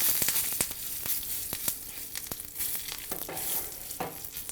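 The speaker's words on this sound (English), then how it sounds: "In goes all the spices. It doesn't take so much time to fry all this." Spices for tomato rasam frying in hot oil in a pan, a close steady crackling sizzle with sharp pops scattered throughout, no talking.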